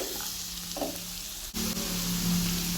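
Onion and soya chunks sauté with salt in a pan, giving a steady, close frying sizzle with a soft knock midway and a slightly louder hiss afterward.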